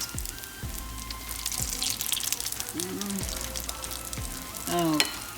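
Akara bean cakes fry in hot oil with a steady, crackling sizzle, close and moderately loud, broken by occasional clinks and scrapes of a spoon against the pan.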